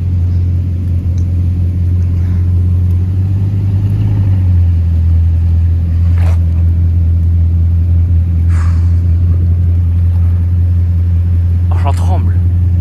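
A Bugatti Chiron Super Sport 300+ hypercar pulls into a parking spot, its engine a deep, steady rumble that holds throughout, with voices in the background.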